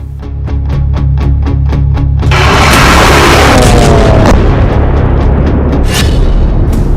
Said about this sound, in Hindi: डिएगो गार्सिया बेस पर बैलिस्टिक मिसाइल से प्रहार